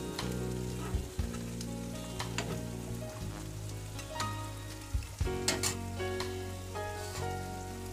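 A Bengali mustard fish curry with tangra bubbling and sizzling in a pan as coriander leaves go in, a continuous close frying hiss with a few clinks under a humming background.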